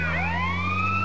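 Ambulance siren in the GTA San Andreas video game, a loud, close electronic wail sweeping upward in pitch over a steady low engine hum.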